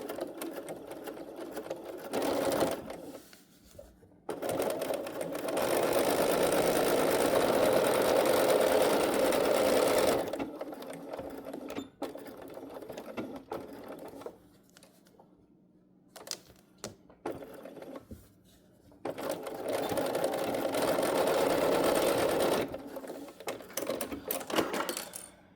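A sewing machine stitches and backstitches fabric, its steady rapid whirring running in several long bursts separated by quiet pauses, close and clear.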